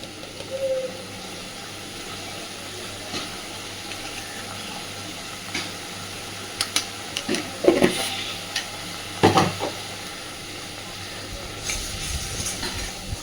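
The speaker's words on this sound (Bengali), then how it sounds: "সুন্দর করে একটু সময় নিয়ে ভালোভাবে মশলাটাকে কষাতে হবে" Spice paste for a spicy pangas fish curry fries in oil with a steady, close sizzling hiss, broken by scraping stirring strokes that come in clusters.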